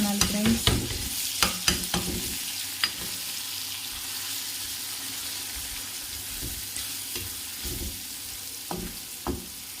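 Spices (turmeric, garam masala) stirred in a pan over a steady sizzle for chicken liver fry, with scraping spoon knocks clustered at the start and scattered later, close and clear without talk.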